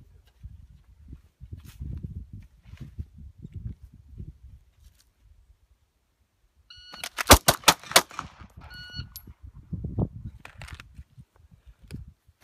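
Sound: gunshots during close retention shooting drill

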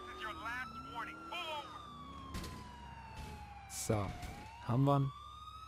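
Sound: police car siren in video game GTA IV

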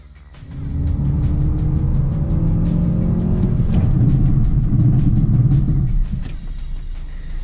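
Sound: Mazda CX-3 driving through curve test

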